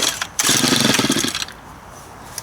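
A leaf blower's small two-stroke engine, running poorly after sucking in dirt, sputters briefly: a loud burst of rough revving for about a second, then it dies away into near quiet.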